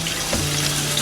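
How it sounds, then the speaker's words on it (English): Tap water runs steadily into a sink while potatoes are scrubbed clean by hand, a continuous close splashing wash with a faint low hum underneath and no talking. "So we get it in water, get it there. Use our hand to cleaning them off."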